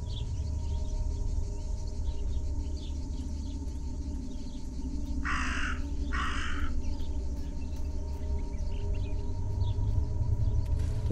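Raven in Martha Is Dead giving two short, harsh caws in quick succession, somewhat distant over a steady low rumble and hum of ambient game atmosphere.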